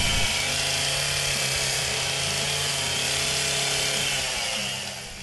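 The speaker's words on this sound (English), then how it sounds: "did some chainsaw carving" Steady, loud chainsaw carving into wood at an outdoor Sawdust Days store event, the engine droning continuously for several seconds before easing off slightly at the end.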